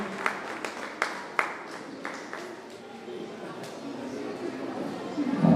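An audience at a school teachers' felicitation and alumni reunion event claps, starting with a few sharp scattered claps and building into steadier applause, with talk underneath.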